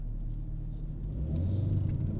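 Low, rumbling exhaust from the inline six-cylinder engine of a 2023 BMW M3 Competition xDrive, idling then swelling slightly as it revs, close by with no voices.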